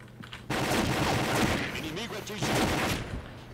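Rapid gunfire bursts in the Combat Arms online shooter, dense crackling volleys filling the whole clip after a short quiet start, loud and continuous with game sounds layered in.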